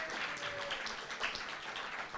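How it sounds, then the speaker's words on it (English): Faint, distant audience applause at a community heritage week celebration, a soft continuous patter of many hands with no talking over it. "Can we give her another round of applause?"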